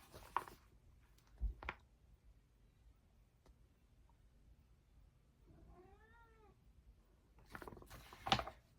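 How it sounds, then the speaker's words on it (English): A hungry cat meows indoors, a few short cries spaced over several seconds, with one longer wavering meow in the middle, amid quiet room sounds and light handling noises. "My cat is starving to death even though it's only 10:30."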